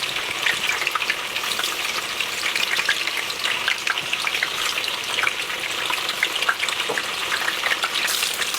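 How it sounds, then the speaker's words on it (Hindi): Thin eggplant slices fry in a pan of hot oil, a loud, dense, continuous crackling sizzle with popping spatters throughout and no one speaking. "और इसी तरीके से बारी बारी आपने ये सारा बस फ्राई करनी है।"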